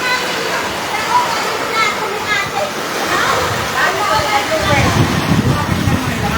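Heavy rainwater pours and splashes steadily from a gutter during a strong storm in Taytay, Philippines, a rushing downpour that grows louder toward the end, with people talking over it.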